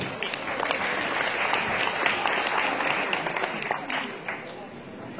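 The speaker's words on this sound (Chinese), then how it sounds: "感谢各位的掌声鼓励" A Deyunshe crosstalk audience at an evening show in Tianjin applauds steadily, dense overlapping hand claps sustained throughout at moderate level.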